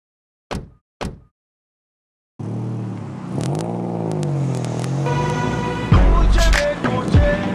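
Two sharp knocks sound first, then after a pause a car engine starts and revs up, its pitch climbing and falling as it accelerates loudly away, rumbling close with a clunk partway through.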